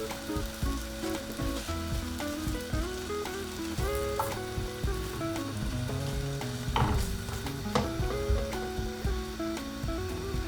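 Paratha fries in butter in a hot pan, a loud, steady close sizzle with crackling that runs throughout, with occasional scraping and knocks from turning it.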